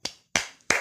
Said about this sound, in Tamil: கைத்தட்டலும் எழுந்தன.